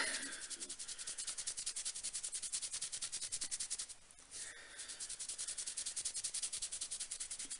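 A Number 7 shadow stick in Gunmetal Grey rubbed hard back and forth, a fast, regular, faint scratchy swishing with one brief pause midway.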